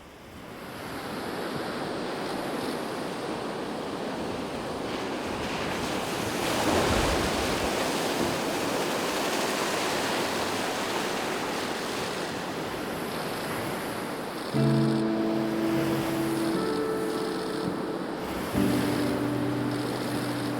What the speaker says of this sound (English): wait for those waves to recede before we drive on through